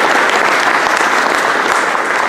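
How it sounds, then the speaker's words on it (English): Dense, loud applause from a luncheon audience at a scholar-athlete awards event, sustained clapping filling the room evenly from start to finish. "please give a round of applause for Trey Turnage of Pearl River"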